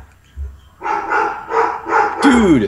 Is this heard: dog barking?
yes